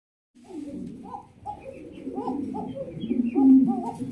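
Kashmiri racer pigeons coo close by in soft, repeated throaty calls that overlap in a steady rhythm at low volume.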